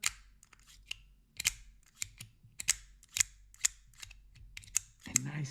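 FocusWorks Bob box cutter mechanism working: a string of sharp, crisp clicks and clacks, close and fairly loud, arriving irregularly every half second or so against a quiet background.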